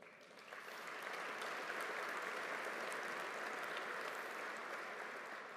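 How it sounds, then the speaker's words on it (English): A roomful of people at a chamber of commerce annual meeting and inauguration applauds for board members, swelling quickly into a dense, even wash of clapping that holds steady and tapers slightly at the end. "Please give them a round of applause."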